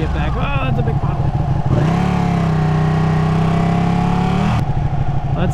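A Ducati 959 Panigale sport motorcycle is ridden, its engine droning loud and close, rising and falling with the throttle and holding a steady tone in the middle, with a rider speaking over it.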